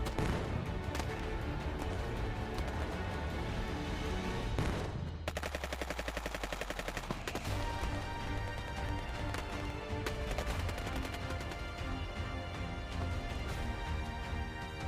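Gunfire and explosive bombardment from a war battle in the WorldBox game, a dense, continuous clatter of rapid shots and booms with a burst of fast machine-gun-like firing midway, loud and alone.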